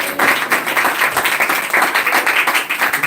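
At a New Year church service, a congregation claps loudly in a steady, rhythmic burst that fills the room, with no voices over it.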